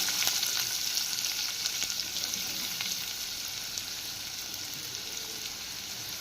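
Onion frying in oil with whole spices, curry leaves and chillies, a continuous moderate sizzle that stays even throughout with light stirring ticks early on.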